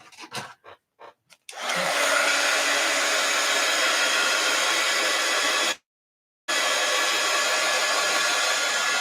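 A hair dryer blowing on tinsel applied to a painted envelope, a steady loud rushing whoosh that cuts out briefly and restarts, preceded by a few short taps and bumps.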